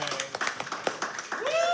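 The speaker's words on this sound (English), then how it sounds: "give Matt a round of applause" Audience clapping for Matt at a talk event, a scattered burst of claps mixed with voices that builds toward the end.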